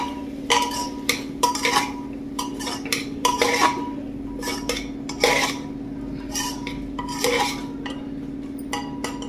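Vegetables being stirred in a metal pot: potato, carrot and cluster beans turned over, with a spoon clinking and scraping against the pan in repeated close, irregular strokes over a steady low hum.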